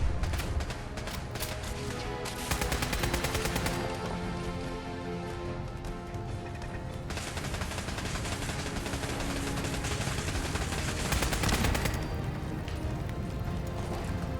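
Turret gunfire in Fallout 4's Nuka-World Galactic Zone, a dense, rapid rattle of automatic shots in sustained bursts with short lulls, loud and continuous.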